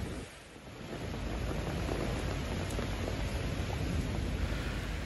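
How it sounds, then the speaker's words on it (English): Heavy rain pours steadily during flooding in Macedo de Cavaleiros, Portugal, a dense, unbroken hiss of downpour that holds at an even level throughout, with no voices. "It's never good in Portugal when it rains heavily, and today's downpours were a natural disaster."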